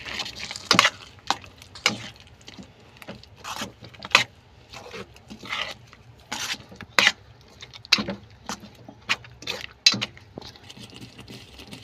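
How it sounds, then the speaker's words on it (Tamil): A utensil stirs ground green hariyali paste into chicken gravy in a pan, giving irregular clinks and soft scrapes of metal on metal with short quiet gaps between strokes. "இப்போ நல்லா மிக்ஸ் பண்ணிக்கோங்க."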